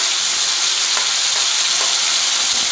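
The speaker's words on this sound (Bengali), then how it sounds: "এবার আমি এর মধ্যে আদা বাটাটা দিয়ে দিলাম" Ginger paste hitting hot spices in a pan, giving a loud, dense, even sizzle throughout with a couple of faint stirring clicks.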